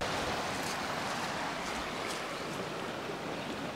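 A mountain stream in Ticino rushes in a steady, close, broadband wash of flowing water with no talk over it.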